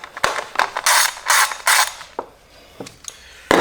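A ratchet loosens the ignition coil bolts on a Mazda CX-30, making close, loud clicking and creaking bursts in quick sets with short pauses. No one speaks.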